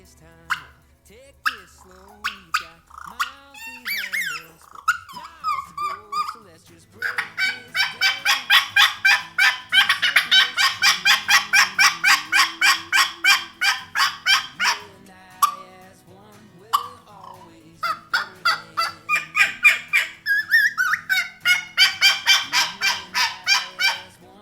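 Power Calls Mockingbird turkey mouth call, a Beau Brooks signature model with an aggressive style, played in loud, rapid runs of raspy yelps and cutts with a far-carrying front end, in several bursts separated by short pauses.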